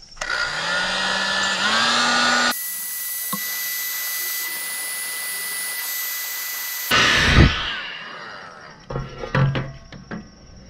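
Heat gun roaring steadily as it shrinks a waterproof heat-shrink butt splice connector on trailer light wiring, a loud continuous blowing hum that cuts off abruptly, followed by faint clicks and handling noises.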